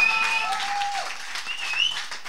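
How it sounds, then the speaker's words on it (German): Audience applause at a live concert in an Austrian pub, a steady wash of clapping from a crowd lasting a couple of seconds with faint whistles or cheers on top. "Ein Applaus bitte!"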